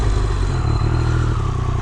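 A 2023 Triumph Speed Triple RR, a 1200 cc street-legal race bike, roars loudly at close range while being ridden, its engine note rising and briefly stepping with quick shifts.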